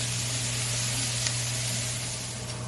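A steak sears in a hot pan, giving a steady, close, continuous sizzle over a low constant hum, with no voices.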